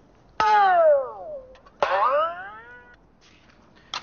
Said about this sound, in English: here's another stringed instrument from India called a gopichan